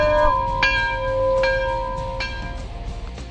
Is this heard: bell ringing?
yes